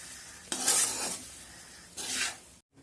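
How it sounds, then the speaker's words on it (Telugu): Rice is stirred together with sweet corn and paneer in a pan, giving two bursts of scraping and soft sizzling, one longer and one shorter, close by with no talk. "యాడ్ చేసుకున్నాక బాగా మిక్స్ చేసుకుంటున్నాను."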